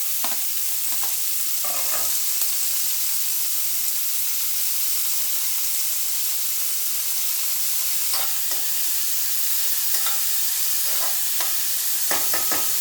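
Chopped onions sauté in a hot pan for a healthy sandwich filling, giving a steady, close sizzling hiss throughout, broken by a few soft clatters of stirring. No one speaks.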